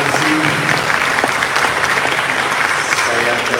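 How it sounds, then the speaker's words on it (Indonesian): Loud, dense audience applause at a seminar on building and repairing marriage relationships, sustained clapping from a large crowd with some voices blended in. "Tepuk tangan untuk Anda yang begitu setia."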